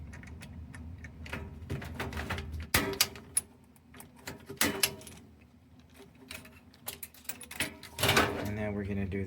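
A punch-down tool cuts and seats network cable wires into a terminal block during an access control and camera install: several sharp, percussive snaps spaced apart, with people talking over them.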